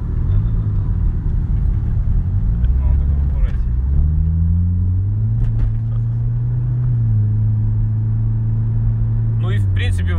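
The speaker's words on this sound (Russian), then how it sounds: "Ну и, в принципе, выхлоп не шумный, надо отметить." A Mitsubishi Outlander Turbo (Airtrek Turbo) hums along while being driven, its engine and exhaust a low, steady drone that rises and shifts with speed, with people talking over it inside the cabin.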